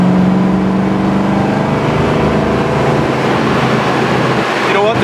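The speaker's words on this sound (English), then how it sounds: "it still drives excellent down the road" A dark blue 1969 Chevrolet Chevelle SS with a lowered stance cruises down the road, its engine droning steadily and loudly with road noise, heard from inside the car, and someone talks over it.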